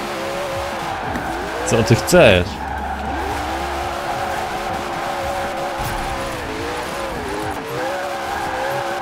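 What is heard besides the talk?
Koenigsegg Regera drifting with tire squeal in Forza Horizon 4 video game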